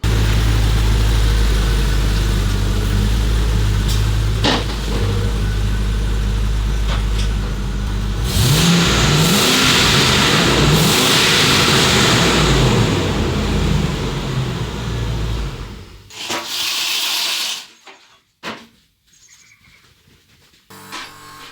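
Land Rover Discovery V8 engine idling, then revving hard for several seconds as the vehicle drives onto a ramp, loud and close, before the engine cuts out and the sound breaks up into a few scattered knocks.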